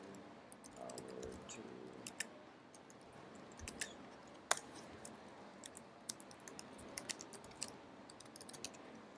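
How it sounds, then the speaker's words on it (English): Typing on a computer keyboard during a live coding demo, with steady irregular key clicks and occasional sharper taps running throughout, close and moderately loud against a low background hum. "You can ignore what I'm typing"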